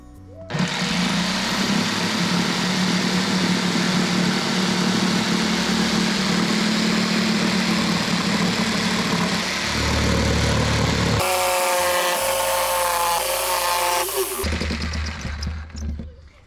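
A power saw with a drop-in blade cuts reclaimed lumber planks for a chicken coop, a loud steady buzzing whine that shifts in tone partway through before tapering off.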